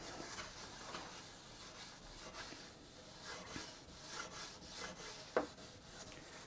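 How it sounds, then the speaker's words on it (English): Soft, steady rubbing of a cloth wiping Danish oil over a wooden sewing machine desk for an Aussie Singer 328P, repeated quiet strokes close up with one brief knock near the end. "I'll just give the whole machine desk a wipe over with this Danish oil"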